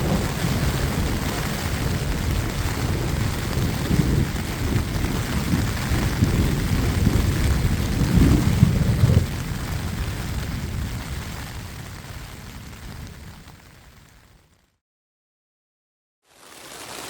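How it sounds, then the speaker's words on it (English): Thunderstorm in the backcountry with heavy rain hiss and low rumbling thunder that builds to a loud roll, then fades away into near silence before sound briefly returns. "we had two lightning storms, thunderstorms move through, with lots of lightning"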